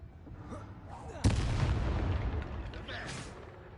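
A Bombarda spell in Hogwarts Legacy bursts with a sudden loud blast partway through, followed by a rumbling, crackling decay, with faint game sounds before and after.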